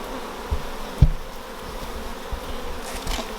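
Honeybees buzz steadily at an open hive during a colony inspection at a Derbyshire bee improvement group, a continuous close hum with a brief louder thump near the start.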